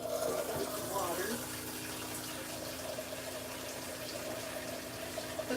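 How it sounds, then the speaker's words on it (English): Tap water runs steadily from a kitchen sink faucet into a bowl, a continuous close rushing and gurgling hiss that holds level throughout. "Put some water in the bowl here."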